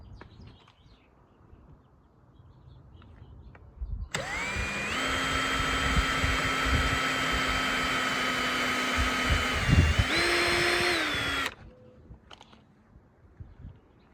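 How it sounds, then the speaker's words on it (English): A power drill drives screws into a boat gunnel bolster panel on an 18-foot Outrage boat. One long, steady whine runs for about seven seconds and shifts pitch near the end. It sounds close and loud against quiet surroundings. "I am going to do 5 screws in this back panel and 4 in the front"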